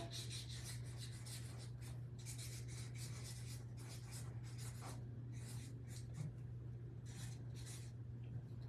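Letters being written on fake bread, a faint rhythmic scratching and rubbing in short repeated strokes over a steady low hum, close and quiet.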